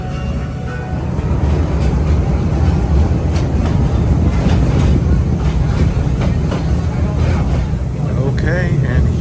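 An amusement park train at Busch Gardens rumbles and clacks steadily along the tracks, loud and continuous, with wind rushing past and faint voices mixed in.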